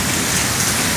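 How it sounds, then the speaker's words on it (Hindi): Steady rain pouring down outdoors, a dense even hiss of drops on surfaces lasting the whole second with no voices. "तो बारिश हो रही है, बड़ा खूबसूरत मंजर बारिश पेश कर रही है।"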